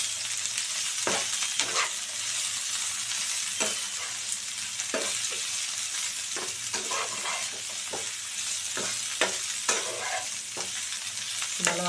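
Bitter gourd sizzles in hot oil in a pan, with a spatula scraping and stirring it in irregular clacks over a constant close frying hiss.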